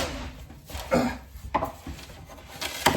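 A panel for a taxidermy holster is pulled and worked loose from its packing foam, giving a few irregular scraping, rubbing and creaking squeaks up close, each lasting under a second.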